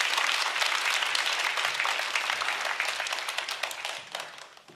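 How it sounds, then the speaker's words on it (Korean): A church congregation breaks into sustained applause to welcome a visiting pastor to the pulpit, with dense, steady clapping from a large crowd that fades away toward the end. "우리 박수로 박신일 목사님 웰컴하겠습니다."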